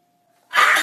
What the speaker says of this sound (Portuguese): espirros